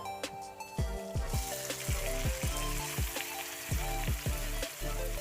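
Pork sizzles as it is sautéed with garlic and onion for pork adobo, a steady close crackle running the whole time beneath rhythmic background music.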